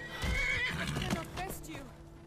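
A horse whinnies loudly and close in Skyrim, a strained neigh trailing off over a couple of seconds, with a few hoof clops and a voice talking alongside.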